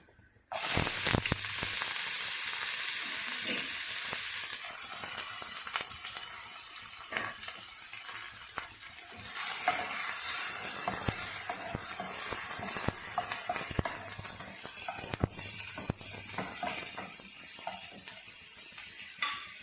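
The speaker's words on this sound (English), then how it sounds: "So I have put oil in a pan. Now I'm going to add some onions." Onions hit hot oil in a pan with a sudden loud sizzle that settles into steady frying, punctuated by sharp scraping and stirring noises nearby.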